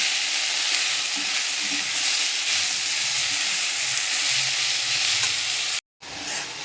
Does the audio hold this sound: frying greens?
yes